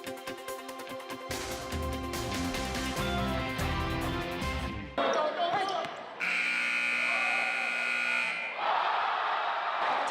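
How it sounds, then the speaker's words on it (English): A halftime buzzer blares in Spalding Gym at a college basketball game, a loud sustained tone of a couple of seconds that follows a stretch of music and noisy crowd roar, with more crowd noise after it. "Ty Nichols' halftime buzzer beater perfectly illustrates the excitement and the emotion that rocked Spalding Gym Saturday"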